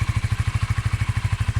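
A Honda CBR 125 motorcycle on its completely standard mild steel exhaust idles close by with a steady, rapid low putter of even pulses and no voices.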